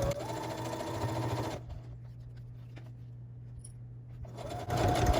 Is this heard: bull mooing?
no